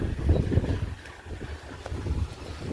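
Strong wind gusts across a rooftop terrace during heavy monsoon rain near Salala, a steady low roaring buffet that swells and eases close to the microphone with no voices.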